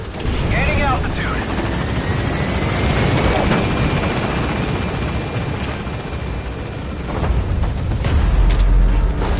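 A helicopter lifts off in Metal Gear Solid V, its loud rotor roar and turbine whine filling the scene steadily and swelling again near the end, with a brief radio voice over it.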